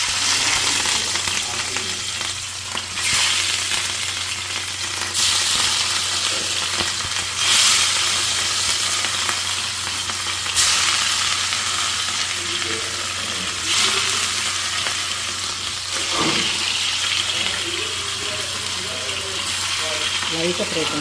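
Fish fries in a pan, a loud, constant close sizzle with occasional bursts and a steady low hum underneath, continuing evenly for a long stretch.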